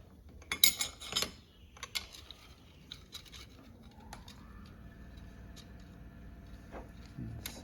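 Metal clutch plates from a Toyota A340E automatic transmission clink and tick as they are splined onto a one-way clutch, a few sharp close metallic taps early on, then quieter handling noise with a faint tone.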